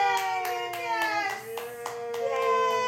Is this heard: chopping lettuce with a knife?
no